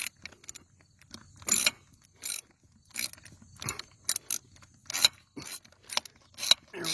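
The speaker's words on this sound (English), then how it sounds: "I'm just going to use this deep well socket as my insertion tool. I'm going to push that right into the hole." A deep well socket cranking a QuikStem valve stem into an inner tube tire, giving short bursts of ratcheting clicks in an uneven rhythm with quiet gaps between, close and crisp.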